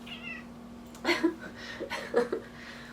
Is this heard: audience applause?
no